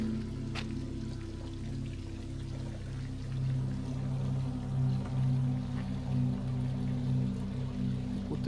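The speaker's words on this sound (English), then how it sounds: "And some water features there." A garden water feature flows steadily with a soft, continuous pour and trickle, heard at moderate distance under a low constant hum, with no talk.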